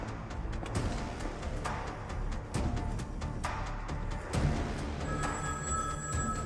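A telephone rings in a Hindi spy thriller scene, with repeated bell-like trills sounding over a dense bed of music and ambience, fairly loud throughout.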